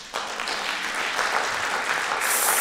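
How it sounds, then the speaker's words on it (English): An audience bursts into applause, a dense, sustained wash of many hands clapping that swells and holds steady, filling the room at close range. "go ahead and clap, let's see you do it."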